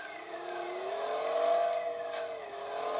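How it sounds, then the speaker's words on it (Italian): A truck's engine starting up in a truck simulator video game: a smooth, sustained motor whine that climbs and levels off, steady and fairly loud without speech. "Ok, avviamo il motore."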